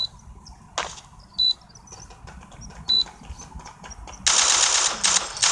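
AK-47 automatic fire in a video game, heard as several short, sharp bursts spaced across the moment and then a longer, louder sustained burst at the end, with no voices over it.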